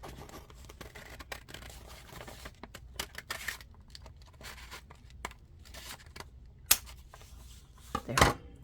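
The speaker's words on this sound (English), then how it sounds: "I'm going to have to do it with the big scissors" Large scissors snip through journal paper in a series of uneven cuts and crinkles, with soft rustling between the snips and a louder crunch near the end.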